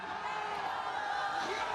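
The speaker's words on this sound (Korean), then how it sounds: "지지자들의 환호 소리 들리고요" Supporters cheer outside Seoul Western District Court as President Yoon Suk Yeol's motorcade departs, a dense, steady crowd roar with indistinct voices throughout.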